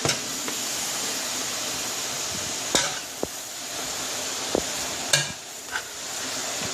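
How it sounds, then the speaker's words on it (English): Smothered cabbage frying in a pan, a steady soft sizzle running throughout with a few sharp clinks of a utensil against the pan, no talking. "the cabbage is cooking down as it slowly fries"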